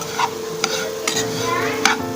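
Leftover roti chevdo roasting in a pan with very little oil, turmeric and chili powder, stirred with a spoon: a few distinct scraping strokes over a continuous soft sizzle, close by.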